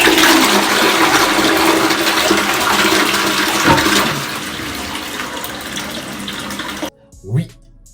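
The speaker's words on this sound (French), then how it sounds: "la fameuse chasse d'eau du voisin du dessus" A toilet flushes loudly with a rushing swirl of water that gradually fades, followed by a brief, sudden noise at the end.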